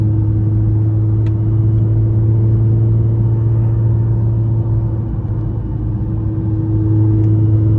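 Steady loud engine drone and low rumble inside a Nissan GT-R R35 while driving, a constant hum heard from the cabin without talk; no distinct clunk stands out.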